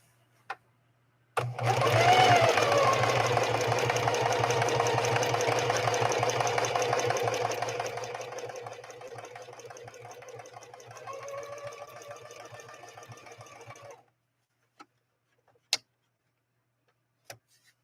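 A Singer 4411 heavy-duty sewing machine runs a decorative building block stitch in one steady, loud mechanical whir lasting about twelve seconds. It slows toward the end, then stops, followed by a few sharp isolated clicks.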